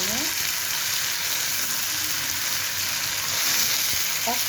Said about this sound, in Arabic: نقلب بقى كله مع بعض كده